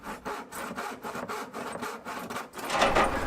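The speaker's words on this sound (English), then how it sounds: "Then the opening could be cut out with the track saw and finished off with a hand saw." A hand saw cuts a sink opening in a birch plywood kitchen worktop. The steady rhythmic rasping strokes are close and fairly loud, with no talk.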